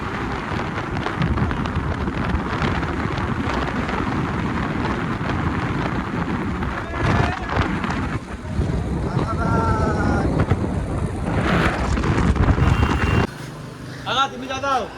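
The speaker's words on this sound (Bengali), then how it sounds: "ওখানে প্রচণ্ড হাওয়া দিচ্ছিল, তাই কিছু শোনা যাচ্ছিল কিনা জানি না" Strong wind blowing across a large bridge over a river with trawlers. Loud, gusty rumbling wind buffets the microphone throughout, with brief quieter gaps and faint tonal sounds near the end.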